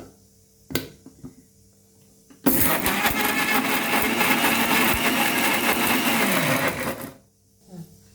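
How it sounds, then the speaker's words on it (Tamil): A mixer jar grinds tomato, garlic, curry leaves, coriander, cumin and pepper in one loud, steady whirring burst of about four and a half seconds, after a few faint clicks and before it spins down into quiet. "இது எல்லாத்தையும் ஜாரில் போட்டு அரைச்சிக்கலாம்."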